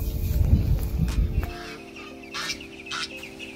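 Ducks and a goose on a homestead, a goose newly placed among seven ducklings, give short honks and clucking calls, loud and close at first, then fainter peeping calls in bursts.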